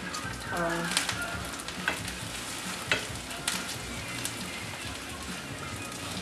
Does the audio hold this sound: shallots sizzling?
yes